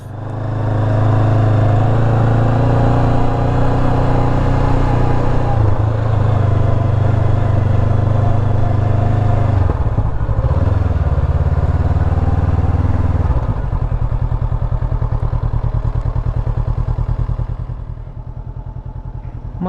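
A motorcycle engine drones loudly and steadily as the bike climbs a hill toward a viewpoint at Samet Nang Chi, with a brief dip in pitch midway and occasional rattles, continuing until near the end.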